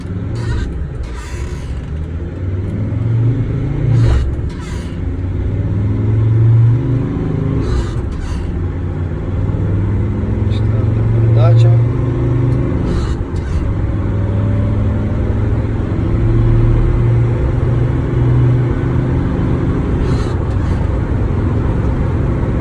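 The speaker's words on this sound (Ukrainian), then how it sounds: "Зробимо маленький тест-драйв, як автомобіль їде." A Mercedes Sprinter W906 van's steady engine drone and road rumble from inside the cabin, rising as it accelerates, with occasional clicks and knocks.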